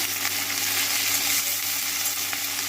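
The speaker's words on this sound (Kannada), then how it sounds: "ಈಗ ಇದನ್ನು ಚೆನ್ನಾಗಿ ಫ್ರೈ ಮಾಡ್ಕೊಳ್ಳೋಣ" Coriander masala fries in a pan for Karnataka-style mutton kaima saaru, giving a steady, close, fairly loud sizzle that holds even throughout with no talking.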